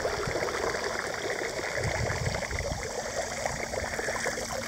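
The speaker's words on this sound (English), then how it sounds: "I punched holes in it so when it fills up with water, it would all drain out the bottom" Water trickles and drains steadily out of a metal detecting pouch with holes punched in its bottom at a lake sandbar, a continuous near splashing dribble without talk.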